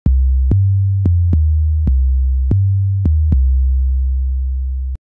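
Deep synth bass notes played in FL Studio with cut-itself mode, each new note abruptly choking the previous one; about eight sharp-attacked, pure-toned hits in an uneven rhythm, loud and alone, with a final note ringing out before cutting.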